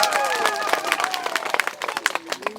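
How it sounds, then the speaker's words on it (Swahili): Applause breaks out for local officials at an outdoor village meeting, a dense spread of claps from a crowd with overlapping voices and chatter beneath. "makofi kwao"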